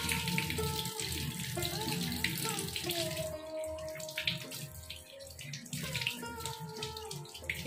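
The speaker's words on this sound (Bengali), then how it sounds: "কুমড়ো পাতাটা আমি এইভাবে ধুয়ে নেব পুরোটা ভালো করে" Pumpkin leaves are washed thoroughly under a running tap, with a steady rush of water splashing and gurgling close by. The leaves are turned and handled in the stream, giving shifting splashes, and a faint voice may be heard underneath.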